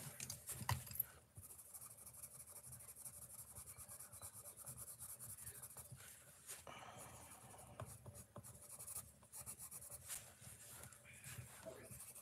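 A Holbein coloured pencil is sharpened close by, making a soft, continuous scraping and grinding rub that sputters in short bursts over several seconds, faint and alone.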